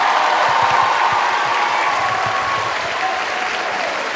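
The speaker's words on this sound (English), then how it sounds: "Let's give Shane one more round of applause, real loud." A large crowd at a promotion event applauds loudly, a thick wash of clapping with some whoops, holding strong and only easing slightly by the close.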